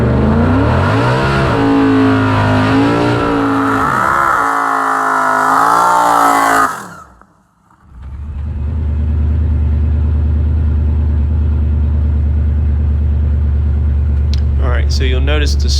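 A drag race car makes its pass, a loud engine roar with shifting tones over the first seven seconds. It cuts out briefly, then returns as a steady heavy rumble with a bright burst near the end. Talk runs over the engine throughout.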